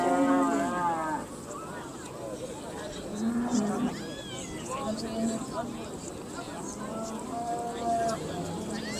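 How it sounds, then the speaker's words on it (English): Simmental cows with calves at foot moo repeatedly at the Simmental Scottish National Show in Dumfries, several drawn-out calls rising over a busy showground murmur while people talk nearby. "It's a tremendous show of cows here in this class"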